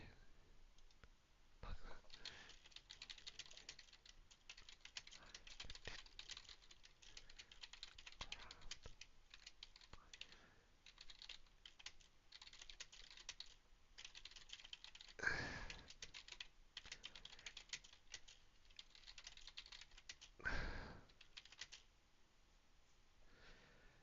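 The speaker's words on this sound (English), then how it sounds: "So okay, so I'm typing this on Google, right?" Soft, quick clicking of a computer keyboard as someone types during a Minecraft live stream, faint and patchy, with a few breaths or sighs and brief quiet speech mixed in.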